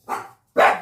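A dog gives two loud, close barks separated by a brief pause, the second bark sharper and louder than the first.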